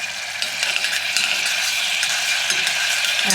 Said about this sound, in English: Can you hear it starting to sizzle?